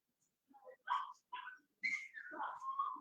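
A dog gives a close series of short whiny yelps and whimpers, broken by brief silences, ending in a longer drawn-out whine.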